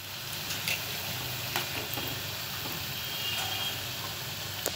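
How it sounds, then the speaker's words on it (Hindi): Corn pakoda fritters fry in hot oil over low heat as they are stirred and turned, giving a steady close sizzle and bubbling crackle with small scraping stir sounds scattered through it and no talk. "अब हम कम आंच पे इसको तलेंगे अगले राउंड में और हम उलट पलट करके इस तरह से हिलाते हुए इसको तलते जाएंगे।"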